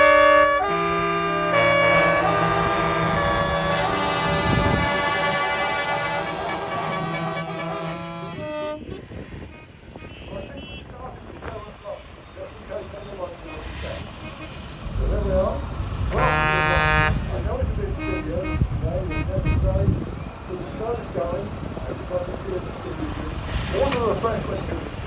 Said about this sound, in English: What about a quick toot-up? Can we hear a little bit of noise?